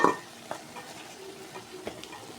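A spoon stirs a shrimp curry with vegetable stalks and potato in a pan. There is a sharp scrape at the start and a few softer scrapes after it, all over a low, continuous sizzle.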